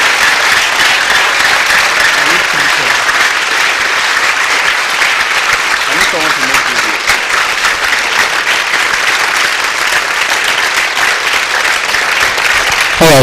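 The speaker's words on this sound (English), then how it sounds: "Please, let's clap for him." A live audience claps steadily at a math-a-thon live stream, loud and continuous applause filling the whole stretch with some voices mixed in.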